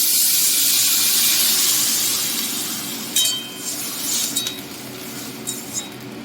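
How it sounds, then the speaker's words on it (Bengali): Water poured into a pan of frying potatoes and drumstick vegetable pieces sets off a loud, sizzling hiss of steam that fades over a few seconds, followed by scattered clinks of a utensil against the pan. "এবার আমি দিয়ে দেবো জল।"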